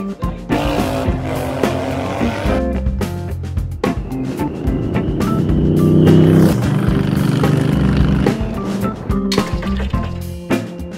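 A 1200cc bobber motorcycle with small eBay turbos and boost pipes fitted runs loud and close, its engine rumbling with clattering mechanical noise and rising in a swell partway through.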